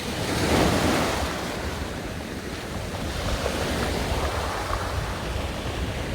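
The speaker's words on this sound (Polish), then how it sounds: "No i taka tutaj plaża." Sea waves wash onto a beach in Turkey, a steady broad rush of surf with a swell near the start, mixed with wind noise on the microphone and no voices.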